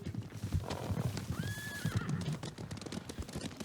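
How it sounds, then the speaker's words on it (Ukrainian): Rapid hoofbeats of galloping horses drum steadily while a horse neighs partway through, moderately close with a rough outdoor backdrop, in the video game Ghost of Tsushima. "Коні, вони біжать до нас."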